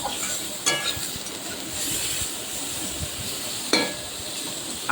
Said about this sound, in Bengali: কুমড়ো মূলো আর ঢ্যাঁড়সটাকে ভেজে নিই